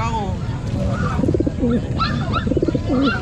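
Racing pigeons at a pigeon sale coo repeatedly in low, rolling bursts close by, several calls overlapping against a busy background of other birds and crowd noise.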